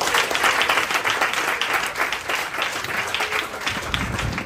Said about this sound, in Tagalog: Malakas na palakpak para kay Jesus.